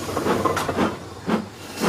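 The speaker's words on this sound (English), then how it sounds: "An exhaust blast" Steam locomotive exhaust blasts chuffing from the chimney of a Cornish Trevithick-style engine with a blast pipe, a few soft hissing puffs at an uneven rhythm, moderately near over background noise.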